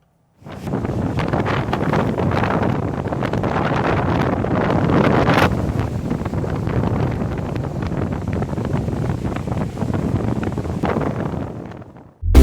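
A strong gale blows in on the coast, a loud, continuous roar of wind buffeting the microphone, steady for the whole stretch with no voices.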